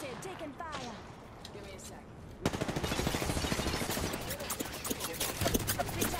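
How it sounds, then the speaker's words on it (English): Gunfire from the battle royale video game Apex Legends: after a quiet stretch, a sudden burst of rapid automatic shots begins partway through and continues loudly and steadily to the end, with a faint voice in the background early on. "I'm spotted, taking fire"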